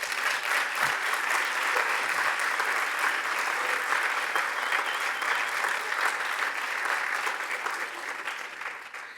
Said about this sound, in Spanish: me pone muy contento cuando aplauden a mi ministro de Economía